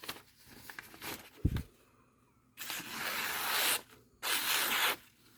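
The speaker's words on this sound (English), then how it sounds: "I might just hone that one again a little bit" A Chicago Cutlery kitchen knife honed after damage from a pull-through sharpener, giving a few separate rubbing, scraping strokes, each lasting about a second, close and clear with short pauses between them.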